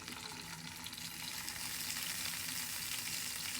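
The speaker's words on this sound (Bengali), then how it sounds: "এই তেলটাই আমরা চিকেনটা ভেজে নেব" Chicken pieces fry in hot oil, a dense, continuous sizzle with crackling that swells slightly louder and stays close and steady.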